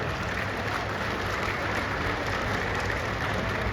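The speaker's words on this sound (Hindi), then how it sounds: "मैं देख रहा हूं कि महिलाएं तो ताली बजा रही हैं" Sustained applause from a crowd at a public inauguration event in India, led by women clapping, a dense steady patter across the whole stretch with no voices.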